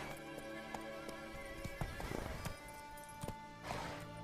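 Roach, a horse in The Witcher 3: Wild Hunt on PS4, moving at pace, with repeated hoof clops and thuds over a steady game music bed, fairly close and moderately loud.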